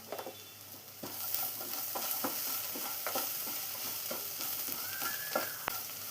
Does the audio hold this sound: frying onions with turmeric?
yes